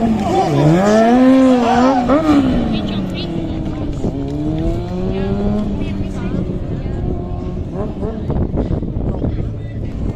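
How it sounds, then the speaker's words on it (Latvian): Honda CBR 600 motorcycle engine at a stunt riding show in Latvia, loud revving with rising and falling pitch sweeps throughout, heard close alongside an announcer's voice over crowd noise. "Viņš brauc ar Hondu CBR 600 kubikcentimetri."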